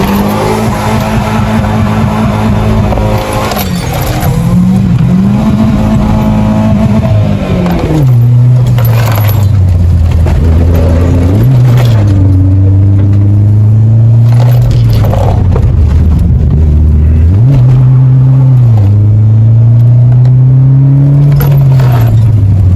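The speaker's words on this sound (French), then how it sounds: "Des petits coups d'embrayage pour la relancer" Small moped-style engine revving hard uphill, pitch rising and dropping repeatedly as short clutch bursts relaunch it, loud and close throughout with no talking.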